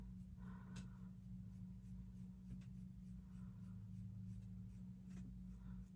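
Spoolie brush combing through eyebrows, soft close scratchy bristle strokes repeating in a light irregular rhythm, faint over a steady low hum with no talking.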